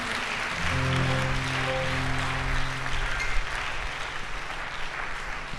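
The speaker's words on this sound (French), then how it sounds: "Est-ce qu'on peut acclamer Jésus pour sa parole?" A church audience claps and cheers for Jesus in a steady, dense wave of applause that holds loud throughout, with sustained tones from instruments beneath it.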